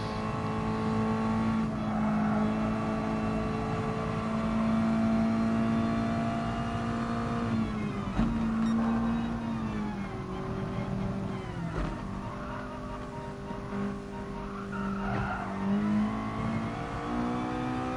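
Race car in a racing video game at Bathurst, a steady close engine drone accelerating through gears with rising pitch, brief shift dips and faint tire noise, continuous throughout.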